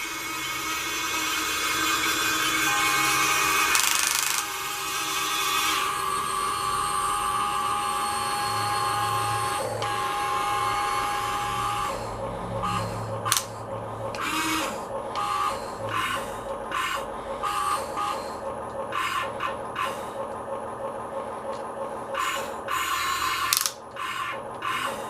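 A toy construction vehicle with real chain tracks and small hydraulic parts runs near by, making a steady whirring grind that turns into rapid ratcheting clicks and clatter.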